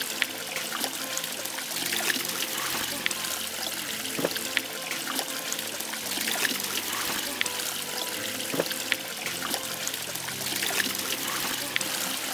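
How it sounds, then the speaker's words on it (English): Spring water trickling in a small village stream, a soft, continuous watery patter heard close up at low volume with small splashes now and then and no talk over it. "It's a nice water. It's a spring water."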